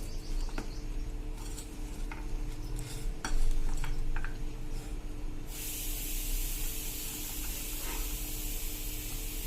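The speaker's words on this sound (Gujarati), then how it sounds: "હવે એને હું એક વખત સરસ હલાવી લઉં." Rested, batter-coated peanuts for sing bhujia get tossed in a bowl, with light clinks and scraping at first, then a broad steady hiss takes over for the rest.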